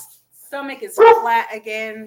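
Dogs let out a few short barks and yips in the background while someone talks close by.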